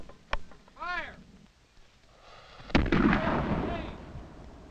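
Two sharp, heavy cannon blasts firing solid shot during a siege of Fort Stanwix, the second louder and followed by a long rumbling tail, with shouted commands between the shots.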